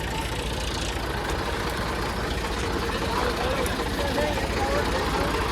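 A Massey tractor engine pulls in a tug-of-war contest against an Eicher tractor, droning and rumbling loudly and steadily throughout, heavy and continuous, with no pauses.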